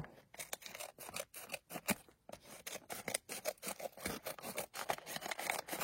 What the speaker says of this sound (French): je vais ouvrir comme ça et je vais couper le haut